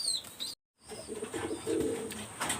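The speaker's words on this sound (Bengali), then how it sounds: "চলেন কী কী কবুতর আছে আমরা একটু দেখি" Pigeons at a Pakistani high-flyer loft give soft, low cooing phrases, close and fairly steady, with a brief dropout early on and some faint chirps and rustle around them.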